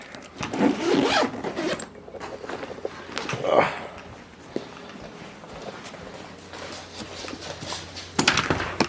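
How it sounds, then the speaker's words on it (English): A zipper on a camera bag is pulled shut in a few quick, close rasps near the start, followed by softer handling rustles and light thumps. "close my camera bag"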